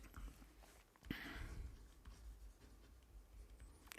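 Chalk or marker scratching on a board during a numerical analysis lecture, quiet and close, with a sharp tap then a longer scrawling stroke and a few lighter strokes after.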